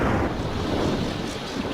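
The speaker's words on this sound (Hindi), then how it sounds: "बादल गरजते हैं, बारिश आती है।" Cartoon thunder from a Doraemon episode gives a brief, dense, rumbling roar that holds steady and fairly loud for under two seconds.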